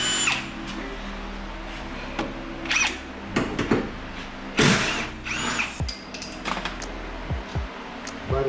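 A power drill whirs in several short bursts while removing sway bar bolts on a Mustang, mixed with close metallic clinks and clunks of tools and parts.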